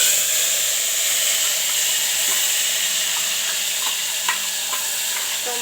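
Cumin, cloves and a tomato, onion and garlic paste fry in hot oil, giving a loud, steady hiss close by, with a few faint clinks.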